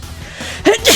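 A sudden sneeze near the end, a sharp burst of breath and voice rising from low rumbling room noise, with a smaller gasp-like intake just before it.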